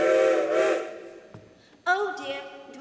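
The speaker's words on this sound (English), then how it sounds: "The train's coming." Whistle of an arriving train in a staged youth drama, a sustained bright harmonic blast followed by a second rising whistle tone after a short gap, fairly loud and close.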